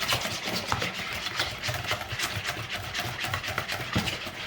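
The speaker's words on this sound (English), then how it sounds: "But I'm gonna keep just stirring this until I get it mixed up." A worn whisk stirs a confectioner's sugar glaze in a bowl with quick rhythmic scraping and rubbing strokes, close by and with no speech.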